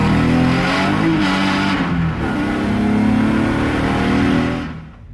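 Loud race car engine revving continuously at close range, a steady high-pitched roar with rising and falling pitch that fades out at the end.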